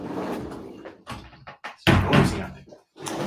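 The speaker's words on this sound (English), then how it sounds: "I'm going to close the door." A door swings shut indoors with a solid thud, followed by a short rattle of the latch, amid faint room movement.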